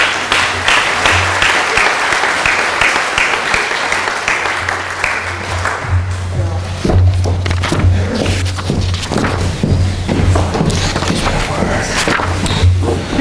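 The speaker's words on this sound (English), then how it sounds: "So one more round of applause." Sustained applause fills an awards ceremony at a chamber of commerce annual meeting, dense clapping throughout with a steady low hum beneath and some thuds toward the end.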